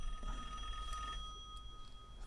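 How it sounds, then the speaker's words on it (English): A telephone rings during a PlayStation 4 power supply repair session, its tone steady and moderately loud through most of the moment, fading near the end. "Phone."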